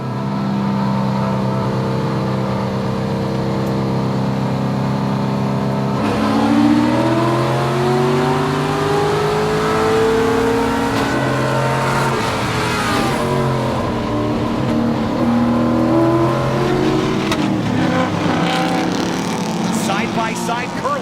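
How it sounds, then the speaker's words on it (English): Several grassroots race cars, a quartet of Corvettes leading a pack, accelerate off the start with layered engine notes that climb and overlap, loud and sustained throughout, while a voice speaks over the roar. "Stacked up, the Corvette Quartet leads the way here. A bunch of G-Speed powered cars."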